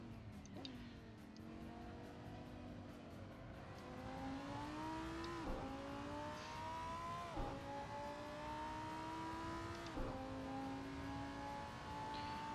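GT3 race car engine in Assetto Corsa on the Daytona road course, held at full throttle with rising revs and several sharp upshifts, a continuous loud drone with no talk.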